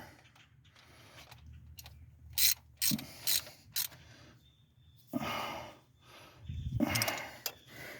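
A ratchet tightens carburetor bolts into aluminum on a 1969 Ford Mustang Mach 1 fitted with a rebuilt 650 Holley carburetor, giving close bursts of quick clicking separated by pauses, a couple of louder rattling stretches, and no talk.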